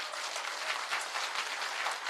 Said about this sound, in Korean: 저희가 진짜 큰 박수를 쳐주셔가지고